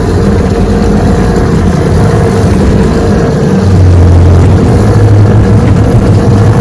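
A 1968 Johnson 9.5 HP outboard motor runs steadily and loudly close by, a continuous droning engine note that deepens and strengthens partway through as the throttle changes.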